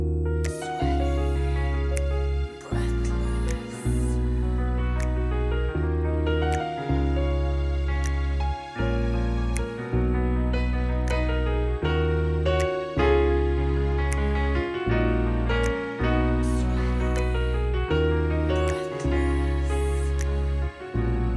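A MIDI-built music mix plays alone, loud and continuous: a steady bass line and piano chords over a rhythmic beat with hand claps, and a vocal part woven through, repeating in regular bars.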